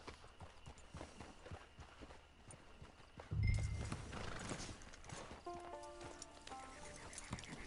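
Horse hooves clip-clop steadily in Red Dead Redemption 2, a near walking gait that grows louder midway, joined by a whinny and brief low thuds.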